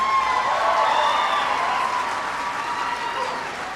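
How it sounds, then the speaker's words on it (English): Town hall audience in Costa Mesa, California bursts into sustained applause with some cheering, loud and steady at first and tapering slightly toward the end. "Give him a big round of applause."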